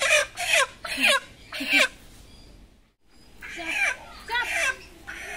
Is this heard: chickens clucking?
yes